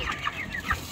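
Chickens cluck close by, a few short clucks in quick succession over a faint background.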